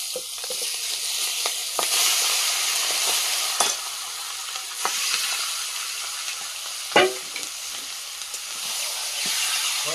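Loud, steady sizzle and hiss of marinated desi chicken frying in a hot pan after mace, with a few scrapes and knocks of a utensil.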